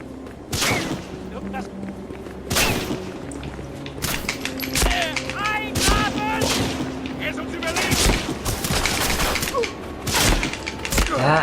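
Repeated gunshots and heavy blasts crack through a Medal of Honor video game battle, bursts spread unevenly with short gaps, while a player talks over the action.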